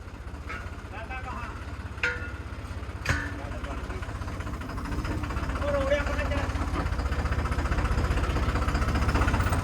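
A low engine rumbles steadily throughout, growing somewhat louder toward the end, with a few sharp knocks and clatters early on, as a machine is being fitted.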